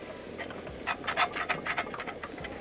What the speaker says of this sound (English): as I'm scraping this